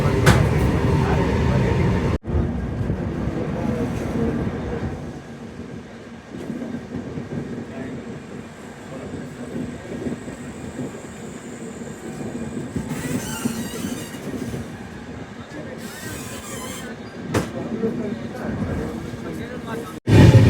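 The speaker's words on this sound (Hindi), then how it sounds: "बिल्कुल डॉट टाइम पे चल रही है ट्रेन अभी हमारी।" The 15279 Poorabiya Express passenger train, heard from on board, gives a steady, loud rumble with clickety-clack of wheels on the tracks and brief squeals, with voices faintly present at times.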